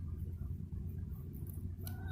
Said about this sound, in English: We always seem to have one chicken